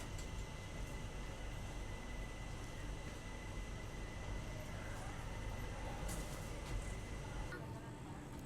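A train departing Raichur station gives a steady, distant rumble and rolling hum, with faint clanks and a soft high whine near the end.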